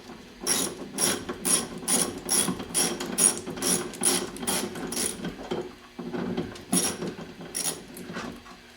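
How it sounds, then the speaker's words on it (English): Rapid ratchet clicks from a hand ratchet backing out bolts on a Mercedes 300D W123 window regulator, coming in quick repeated bursts with a short pause near the middle, close and clear with no talking. "But first let me get these two bolts out."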